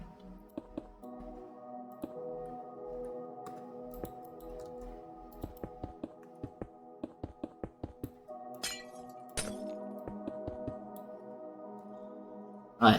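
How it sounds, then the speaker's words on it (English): Glass blocks being placed around a base in a video game, heard as a series of short, crisp clicking and clinking taps at uneven intervals over a steady low background tone, with a brief rustling burst near the end. "Alright, and now we'll add glass all the way around."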